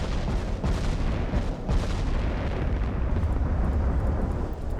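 18-inch naval guns firing in the naval warfare game Ultimate Admiral: Dreadnoughts, a dense rumbling roar of heavy cannon blasts and booms, loud and continuous with no talk.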